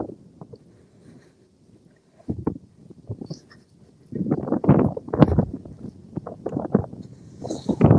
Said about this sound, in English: Wind's a bit head on.